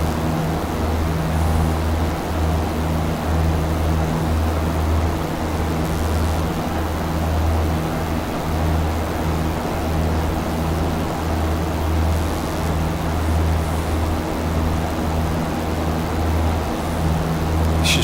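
A Cirrus single-engine propeller plane cruises in X-Plane 11, its engine a steady, continuous droning hum with a strong low-pitched buzz that holds even throughout, with no voices.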